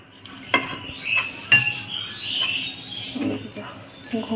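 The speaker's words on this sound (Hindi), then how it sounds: "चीज़ के छोटे छोटे पीस में कट कर देते हैं इस तरीके से।" A knife cuts cheese into small pieces for paneer cheese cutlets, giving a few sharp taps on the board spaced irregularly, close and clear amid light kitchen clatter.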